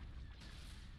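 Ordered cannon fire in the Empire at War game, a dense, loud rumbling boom that fills the whole second with no pause.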